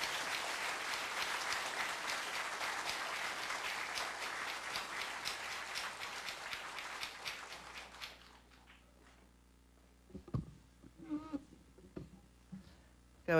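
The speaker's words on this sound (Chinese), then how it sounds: "请掌声欢迎" An audience at a ceremony applauds to welcome the former vice president, a dense, steady clapping that fades out after about eight seconds, followed by a quiet hall with scattered small noises and shuffling.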